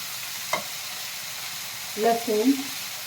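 Tomatoes, ginger and garlic frying in a pan for matar paneer masala, a faint steady sizzle broken by a short stirring scrape near the start and a clatter of stirring toward the end.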